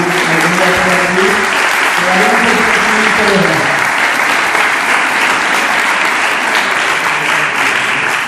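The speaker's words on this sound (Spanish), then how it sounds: "un fuerte aplauso para Ana." A crowd claps loudly and steadily, a dense wash of applause that continues for several seconds, with a voice briefly audible over it at the start.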